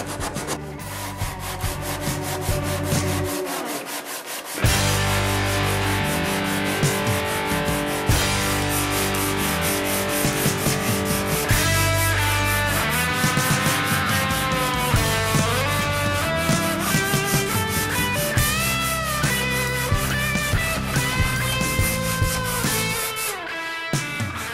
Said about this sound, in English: we can start working our way through the grits to get this into a nice finished state